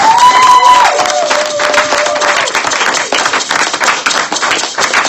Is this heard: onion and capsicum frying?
no